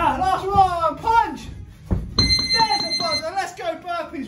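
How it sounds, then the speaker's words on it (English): A steady electronic workout timer buzzer sounds for about two seconds during a boxing fitness workout, with energetic talking and music continuing around it. "There's a buzzer."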